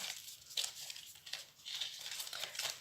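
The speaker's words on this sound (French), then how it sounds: "On va venir marquer un petit coup les plis comme ça." Paper being creased by hand into folds for a candle box, close, soft crinkling and rustling in short bursts.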